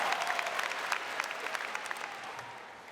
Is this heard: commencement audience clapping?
yes